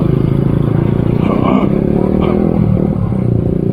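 Motorcycles idle and crawl through a night traffic jam around the Unja university campus in Indonesia, a loud, dense engine rumble with clattering and revving throughout.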